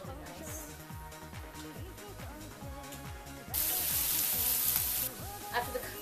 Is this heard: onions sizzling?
yes